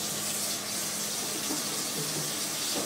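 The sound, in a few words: water running from tap into shaker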